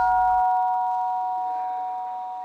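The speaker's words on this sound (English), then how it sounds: "When the monks heard the gong, they went up to line up for the breakfast." A single monastery gong at a forest meditation center rings out with a sharp strike and then a long, clear, sustained hum that fades slowly, heard alone.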